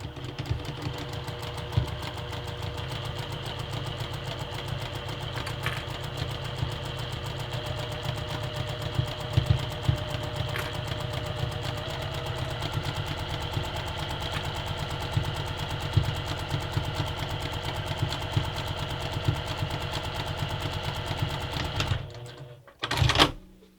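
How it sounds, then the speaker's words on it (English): A sewing machine stitches a mesh zipper pouch onto a bag in a steady, continuous mechanical whir that runs close and loud for over twenty seconds, then stops abruptly near the end. "it's really important to sew with the fabric against the bed of your sewing machine"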